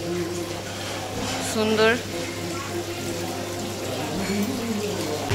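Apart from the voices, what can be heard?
water falling from a hill at a restaurant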